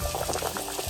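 Water with potatoes in it bubbles at a rolling boil in a pot, a brief burst of irregular gurgling pops, close and moderately quiet.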